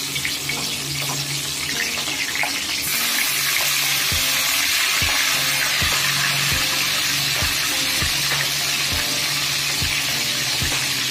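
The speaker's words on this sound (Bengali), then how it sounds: "তেল গরম হয়ে গেছে, এবারে মাছগুলোকে ভেজে নিচ্ছি।" Fish fry in hot oil with a steady, close hiss of sizzling and periodic soft knocks, holding an even, fairly loud level throughout.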